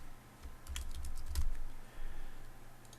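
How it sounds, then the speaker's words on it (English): Typing on a computer keyboard while designing a tee graphic in Photoshop: a few quick bursts of close, light key clicks in an otherwise quiet room, with no voices. "So I'll type the word"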